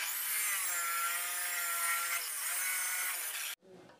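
A machine-mounted blade cuts through metal for a heavy open-well door, giving a loud, steady grinding screech that runs nearly four seconds, then stops abruptly as the blade spins down.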